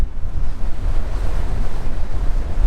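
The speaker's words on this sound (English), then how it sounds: "We're going into the wind." Steady, loud wind buffeting roars across the microphone while riding an AIMA Santa Monica e-bike into a headwind at speed, a continuous low rumble with no voices.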